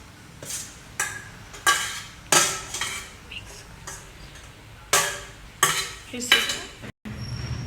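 A spoon stirs cucumber koshimbir with tomato, onion and coriander into yogurt in a bowl, giving a series of separate clinks and scraping strokes against the dish, close and fairly loud, with pauses between.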